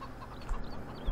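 Chickens cluck softly in the Farming Simulator 15 video game on the Bantikow farm map, a faint continuous murmur of hen sounds over a low background hum.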